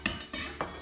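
A spoon scrapes and taps in a pan of onions softening in oil, three quick metallic strokes in under a second, close by and fairly quiet.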